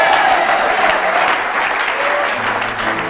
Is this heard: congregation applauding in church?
yes